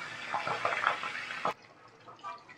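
Fish heads fry in hot mustard oil in a kadai, with a busy crackling sizzle and stirring clatter that suddenly quiets to a softer, fainter spitting.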